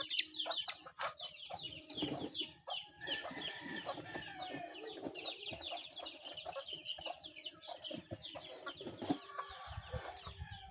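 Pet chicks being marked and having holes punched, with a dense chorus of high cheeping and peeping, loud at first and then steady, alongside some clucking and occasional low thumps from handling.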